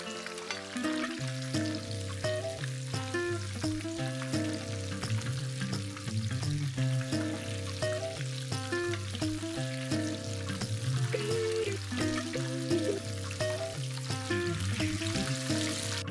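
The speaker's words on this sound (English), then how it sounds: "just keep these moving in the hot oil and keep an eye on it for it to turn evenly golden" Fish fingers fry in hot oil, giving a steady close bubbling sizzle that runs unbroken throughout, with faint stirring movements and a low hum underneath.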